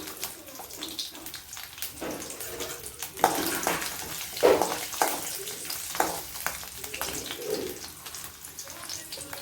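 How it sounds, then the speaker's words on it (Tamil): Peeled garlic and ginger fry in oil in a pan, crackling and sizzling moderately with bursts of spattering and a few utensil clinks, quieter between stirs. "கொஞ்சமாக வதக்கிறதுக்கு எண்ணெய் ஊற்றிக்கலாம் இப்போ நாலு பூண்டு வந்து உரித்து போட்டிருக்கிறேன் கொஞ்சமாக இஞ்சி போட்டுக்கலாம்"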